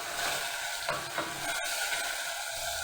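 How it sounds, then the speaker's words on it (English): Tomatoes stirred into a frying sauce for coconut rice and beans, a steady sizzle with soft scraping of the spoon, close and fairly quiet. "Add the tomatoes and stir them."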